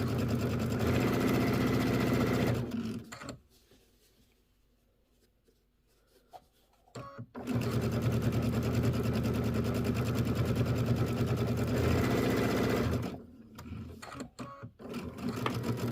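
A sewing machine stitches a Kimberbell quilt section, running steadily and loudly for about three seconds, pausing, then running again in a long continuous burst, followed by a few short stop-start bursts.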